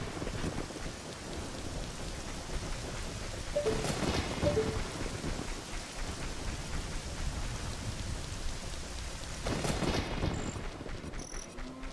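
Steady, heavy rain pours throughout a thunderstorm, with two louder rolls of thunder rising near the middle and again toward the end, and no voices.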